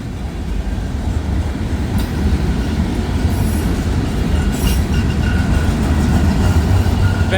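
A loaded CSX freight train hauling full auto rack cars rolls past nearby, a steady loud rumble of wheels and rail noise with faint squeals carrying through the whole stretch.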